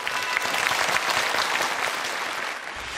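A TV studio audience gives sustained applause to welcome a new company CEO joining the panel of bosses, with thick clapping that tapers slightly near the end.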